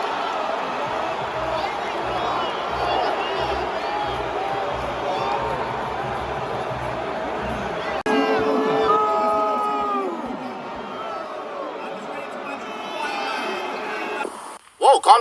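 A large arena crowd at a fight event murmurs and chatters in discontent after an early stoppage, a broad continuous roar from the audience with a voice talking over it.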